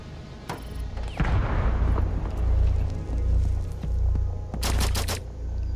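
Pistol shots in Rainbow Six Siege ring out amid a booming, rumbling game mix, with a cluster of sharp, bright cracks near the end over steady low background noise.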